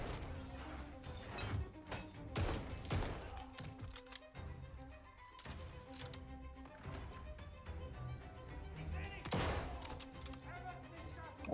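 Rapid video game weapon fire with heavy recoil, bursts of gunshots crackling over a steady game soundscape, with a voice talking faintly underneath.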